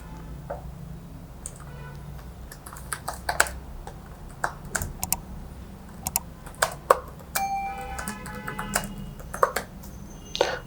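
Quick bursts of keystrokes on a computer keyboard while writing HTML for a portfolio website, irregular clusters of light clicks with short pauses between them, close and fairly quiet, no talking.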